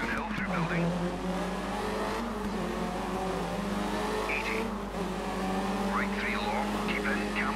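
A Mini Cooper S engine hums and revs steadily in the Dirt 3 racing game, holding a strong droning note with brief squealing bursts, while a voice talks faintly over it.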